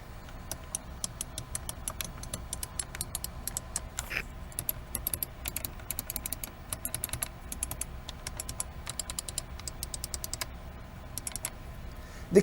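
Rapid clicking of the keypad keys on a vintage calculator, short crisp taps in irregular bursts that continue steadily at moderate loudness, with no voices.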